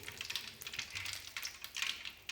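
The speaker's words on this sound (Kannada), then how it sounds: "ನೋಡಿ ಸಾಸಿವೆ ಚಟ್ಪಟ ಸಿಡಿಬೇಕು" Mustard seeds crackling and spluttering in hot oil for Kannada tomato saru, a quick run of small sharp pops and faint sizzling heard up close and alone.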